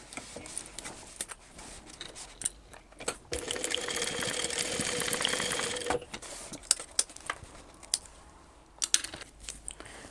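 Sewing machine stitching a straight seam on a fabric switch case, a close run of rapid mechanical chatter in the middle, framed by scattered clicks and handling taps.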